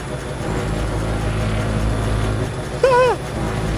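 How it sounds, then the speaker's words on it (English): A train running on rails in the factory-building video game Foundry, heard as a steady mechanical rumble throughout, with a short, loud, tonal whistle-like toot near the end. "It's a choo-choo train."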